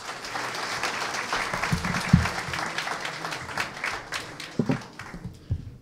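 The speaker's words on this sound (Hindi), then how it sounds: "आपकी भरपूर तालियां होनी चाहिए जी" An audience at a media freedom dialogue breaks into applause, a fairly dense clapping wash with a few louder individual claps and thumps standing out, tapering toward the end.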